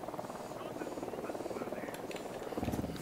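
A helicopter in the video game Ghost Recon Wildlands thrums with a steady, rhythmic rotor chop that grows slightly heavier near the end, while a player talks over it.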